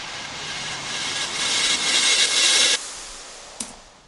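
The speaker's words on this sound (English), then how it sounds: "a riser is, it's like a generic sort of noise which provides like the lift up before a drop" A music-production riser sample: a broad hissing noise swell that builds in intensity for nearly three seconds, cuts off abruptly, then a brief sharp hit follows, with no voices.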